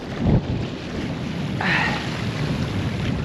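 Stormy spring wind sweeps across a lake during a fishing outing, a loud, steady broadband rush with gusty swells and buffeting on the microphone, with no other sounds standing out.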